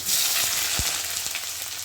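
Chopped onion and chillies fry in hot oil with black cumin seeds for a sweet pumpkin chakka, giving a steady, close, bright sizzle with a few soft pops and stirring knocks.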